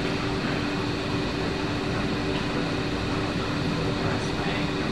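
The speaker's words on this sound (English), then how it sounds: "You can hear machines." Steady machine hum with a low tonal drone and broadband whir, like fans or air conditioning in a workshop, running continuously and evenly at moderate loudness with no pauses.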